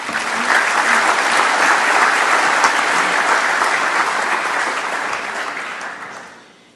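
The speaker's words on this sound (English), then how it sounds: "let us all together applaud to welcome them in those responsibilities" Sustained applause from a large audience at an international FAO conference in Rome, loud and steady for about six seconds before fading out, with no talking over it.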